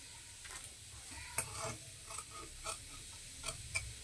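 Scissors cut through blouse sleeve fabric in a quiet room, giving a handful of soft, crisp snips spaced irregularly over a few seconds with no talking.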